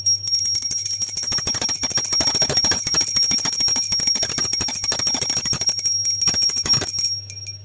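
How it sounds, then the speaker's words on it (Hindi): A bright metallic prayer bell rings continuously with rapid repeated strikes during a Hindu food offering, a sustained high tone over clattering, lasting several seconds before stopping. "तो अब हम बजा देंगे घंटी"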